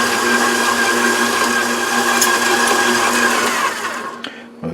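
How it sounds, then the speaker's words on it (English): A stand mixer kneads panettone dough on medium speed, a loud continuous motor whir with a steady hum that holds evenly and then winds down and stops near the end. "And now it gets kneaded on medium speed for 5 minutes."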